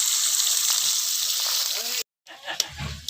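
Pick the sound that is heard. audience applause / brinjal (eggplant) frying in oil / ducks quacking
brinjal (eggplant) frying in oil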